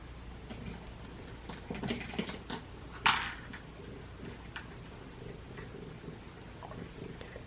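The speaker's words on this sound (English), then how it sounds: "They're purring so loud." Feral cats purring close by as they eat dry food, a low steady rumble under faint ticks and crunching with one brief louder scrape.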